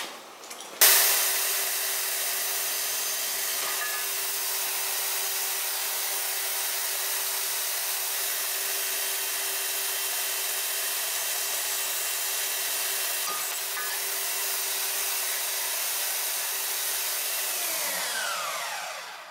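A power saw cutting the heads off golf club shafts, one steady, loud, continuous whine that runs without a break for about seventeen seconds after a sharp start, then stops abruptly.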